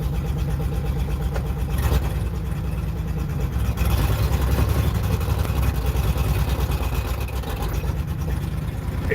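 A Farmall H tractor engine running in gear with its PTO engaged, a steady mid-pitched mechanical drone heard close up, continuous and fairly loud with faint rattling.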